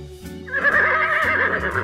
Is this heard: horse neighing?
yes